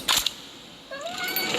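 A cat meows close by indoors, a short rising cry after a couple of sharp knocks, fairly faint.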